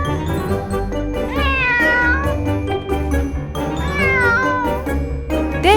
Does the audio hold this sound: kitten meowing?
yes